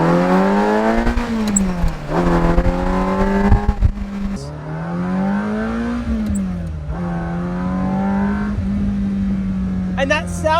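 A 40-year-old catless Ferrari with no full exhaust revs hard through repeated pulls, its engine note climbing and dropping between gear changes, loud and close inside the cabin with occasional voices over it.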